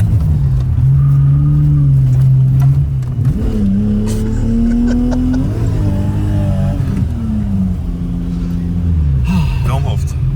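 A BMW E34 M5 engine revving hard on a drift session, loud and close, with the pitch climbing and dropping through repeated throttle pulls and shifts, a rough rumbling drone throughout and talk over it.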